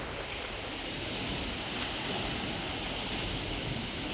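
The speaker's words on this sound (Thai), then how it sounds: "มีเสียงคลื่นกระทบ" Strong sea waves crash against rocks along the shore at Hua Hin, a steady loud wash of surf mixed with wind buffeting the microphone.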